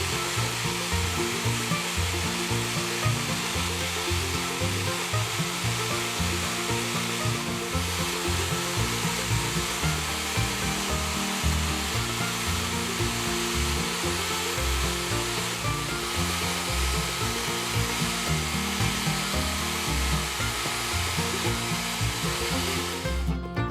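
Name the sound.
polishing an International Harvester adjustable monkey wrench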